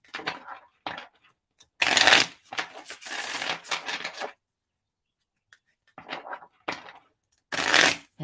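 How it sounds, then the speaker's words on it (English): Tarot cards are shuffled in several quick riffling bursts separated by short pauses, close and crisp. "let me go ahead and shuffle."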